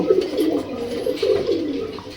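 Two male Rajshahi Giribaz pigeons crossed with bronze pigeons coo in low, rolling phrases that repeat steadily, close and fairly loud throughout, with no talking over them.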